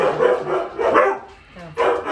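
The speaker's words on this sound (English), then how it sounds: "dogs. Come here, Charlie. Come here, buddy. Good boy" A dog barks in short bursts, a few loud, close barks with pauses between them, carried in a home kitchen with no talk over it.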